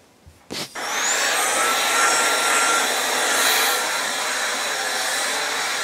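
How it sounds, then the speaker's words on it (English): In a home, a vacuum cleaner starts after a couple of clicks and bumps, then runs as a loud, steady whining roar. Its pitch rises briefly as it spins up. "I always feel like before I leave the house, I have to vacuum."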